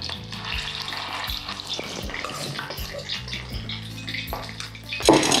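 Tofu balls deep-frying in hot oil, a dense, continuous bubbling sizzle with scattered crackles and occasional clinks of utensils, swelling louder right at the end, no voices.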